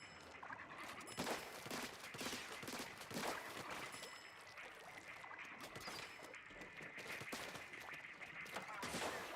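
Rapid-fire weapon in the Splatoon video game shooting in a dense, continuous burst of quick shots, loud and close, with splashy bursts layered over the steady stream of fire.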